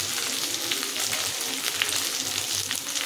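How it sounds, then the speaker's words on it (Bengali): Vegetables fry in a pan with salt, chili powder, turmeric and coriander powder for a prawn and Malabar spinach chorchori, a loud, dense sizzle with light stirring scrapes and no talk. "মশলাটা একটুখানি ভাজা ভাজা হবে"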